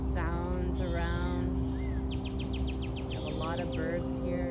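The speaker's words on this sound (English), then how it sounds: "A lot of birds here." Birds singing outdoors with varied chirps, trills and rapid repeated notes at moderate distance over a steady hum of background noise.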